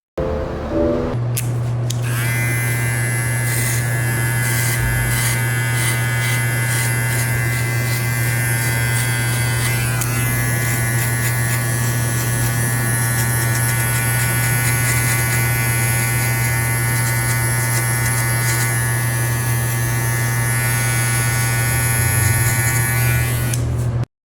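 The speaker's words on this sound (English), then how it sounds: "an amazing original clipper engineered and perfectly designed to leave you with a perfect fade" A TPOB X Deluxe hair clipper runs close and loud, holding one steady high-pitched electric buzz for the whole stretch without pause or speech.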